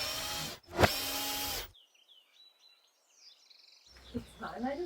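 A power drill unscrews hinges from a greenhouse door, whirring loudly in one sustained close burst before falling quiet, followed by faint chirping and brief rustling, with no speech.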